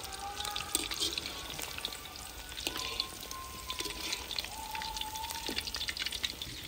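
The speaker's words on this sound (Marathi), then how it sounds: "आपले लेग पीस किती छान प्रकारे तळून झालेत" Oil sizzles and crackles steadily as coated chicken leg pieces deep fry, a dense bubbling hiss close up, with occasional faint clinks and tones in the background.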